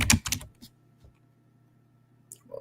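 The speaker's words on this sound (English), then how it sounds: "Apologies for my poor typing." Fast typing on a computer keyboard opens with a loud burst of clustered clicks, then fades to a few isolated taps and near silence before another short flurry of keystrokes at the end.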